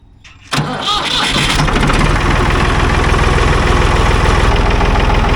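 A Ford 3.3 liter three-cylinder diesel tractor engine cranks and fires, then settles into a loud, steady, close chugging run with a regular knocking pulse and no talk over it.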